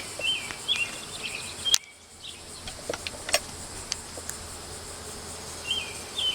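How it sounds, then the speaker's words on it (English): Soft honey bee buzzing with faint high chirps and occasional short clicks, steady and low in level, no voices. "A lot of bees."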